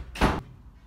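A door in a home swings open or shut, one brief solid thud with a sharp, bright edge, close and fairly loud, then near quiet.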